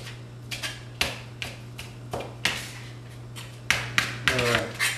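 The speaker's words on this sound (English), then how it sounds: "Next, I'm going to get a little bit of basil over here. Get a rough chop on this." A knife rough-chopping fresh basil, about a dozen crisp, irregular knocks against a cutting surface, some in quick pairs, over a low steady hum.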